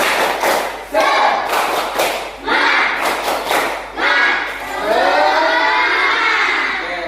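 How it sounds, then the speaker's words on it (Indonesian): Indonesian schoolchildren standing in class and doing a spirit clap, with loud rhythmic bursts of clapping and thumping mixed with children's shouts that fill the whole stretch. "Kita tepuk semangat sambil berdiri biar semangat untuk pembelajaran ini."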